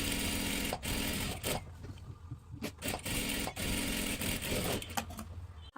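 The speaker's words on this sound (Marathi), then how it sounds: "आता इथे डबल शिलाई मारून घ्यायची आहे एका बाजूला." A close sewing machine double-stitches a salwar seam, whirring in quick runs broken by brief pauses.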